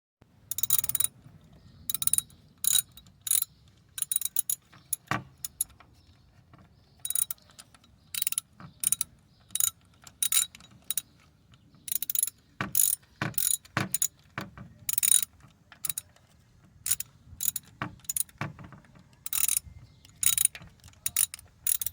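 Bolt on a C5 Corvette pulley tightened with a ratchet, giving repeated close clicking bursts in an irregular rhythm over a low steady hum, with no talking.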